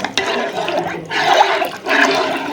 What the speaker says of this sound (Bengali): এবার এটার ভিতরে আমি পানি দিয়ে দিলাম